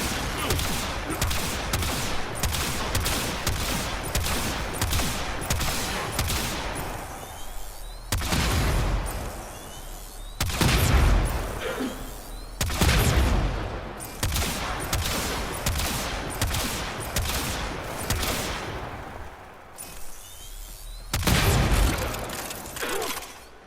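Finger guns from the Tomb Finger Chamber in Warframe fire in rapid bursts, dense rattling volleys with short pauses between strings of shots, loud and close.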